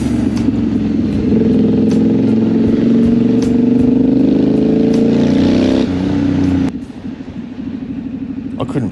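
Triumph Scrambler 900 motorcycle riding on a sunny afternoon, a steady loud engine drone that rises in pitch as it accelerates, then drops suddenly near the end and settles into a lower rumble, with wind noise throughout.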